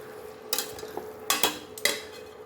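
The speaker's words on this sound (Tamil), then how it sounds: "ப்ரான்ஸ் எடுத்து போட்டு திரும்ப வதக்கணும்." Prawns being stirred and sautéed in a pan for prawn gravy, with several sharp scraping clatters of a utensil against the pan over a faint sizzle, no voices.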